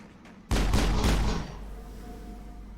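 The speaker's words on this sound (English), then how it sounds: "I was shooting." Gunfire from the Mass Effect video game: a sudden, loud burst of rapid shots lasting about a second, then a low rumbling tail that fades into quiet background hum.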